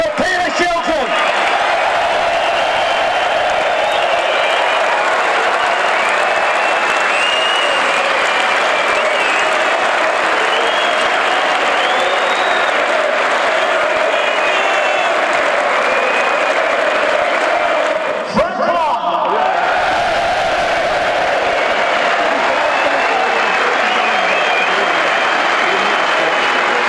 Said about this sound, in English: Let's hear it for Peter Shilton